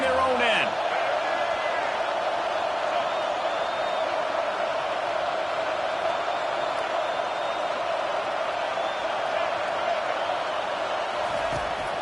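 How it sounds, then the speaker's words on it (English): Crowd roar in a college football video game, a steady broad stadium wash that holds evenly throughout, with a brief thump near the start. "The roar of the crowd trying to fuel this defense to keep them pinned in their own end."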